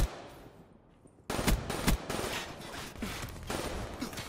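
A video game gunfight: quiet at first, then sudden close automatic gunfire bursts and rapid shots, loud and dense, continuing to the end without talk.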